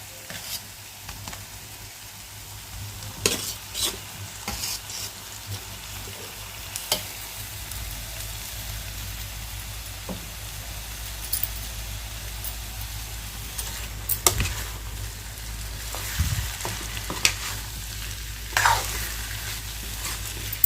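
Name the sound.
stirring potato pieces with fried green chillies in a pan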